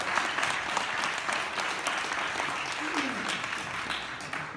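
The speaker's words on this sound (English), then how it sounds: "Let's have another round of applause for the Guidrys." A steady wash of audience applause fills the room at an honoring event for a couple, dense clapping held at an even level throughout, with a faint voice briefly under it.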